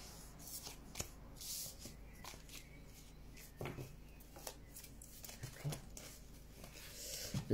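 Tarot cards being handled and laid out by hand: soft, quiet shuffling and rustling with scattered light taps and slides, close by and with no talking.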